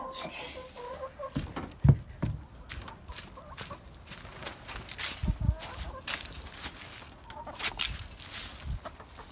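Backyard chickens cluck near a hanging nesting box, with scattered sharp clucks and scratching patter around the flock, close and moderately loud, while a person talks at times.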